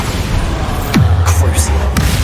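In the Hogwarts Legacy video game, a Bombarda spell explodes with a sudden burst that drops into a deep, rumbling boom, followed by a second, smaller hit near the end amid constant battle noise.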